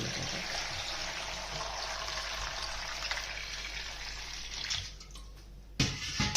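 Water pours in a steady stream into a pressure cooker packed with potatoes for several seconds, then stops, followed by a brief knock of metal.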